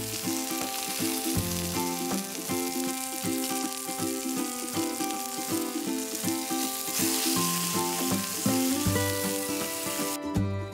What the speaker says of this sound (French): Réduisez ensuite la température sur feu moyen et faites-les cuire encore 4 minutes de chaque côté.